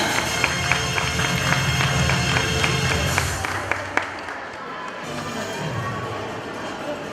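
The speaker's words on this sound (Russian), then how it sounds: "Аплодисменты еще громче." Audience applause at a festival for mothers in Yakutsk, a steady patter of clapping from a crowd with sharp individual claps standing out, fading softer after the first few seconds as a voice speaks over it.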